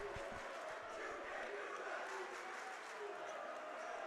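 A blackout-themed student section crowd at a varsity boys high school basketball game roars in a steady, dense wash of cheering and clapping that echoes through the gym.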